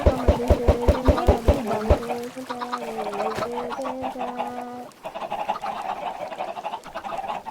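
Cartoonish chickens on a video game farm cluck loudly, first in a quick burst of sharp clucks, then in drawn-out, wavering calls, with no one talking.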